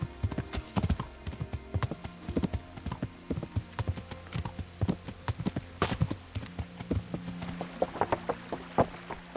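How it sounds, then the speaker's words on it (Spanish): Horse hooves clatter across a bridge in Kingdom Come: Deliverance (2018), a fast, close, steady clip-clop rhythm that runs throughout. "Ves que te está viniendo un caballo por un puente"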